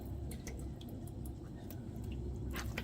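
Washed raw oxtail being drained of excess water, a faint wet trickle with scattered drips and soft squishy sounds over a steady low background hum, with no talking.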